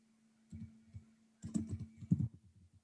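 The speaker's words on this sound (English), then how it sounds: "we're going to just type in Smith College" Computer keyboard keys pressed to enter a search into LinkedIn, with soft, close clicking in a couple of short bursts over a steady low hum.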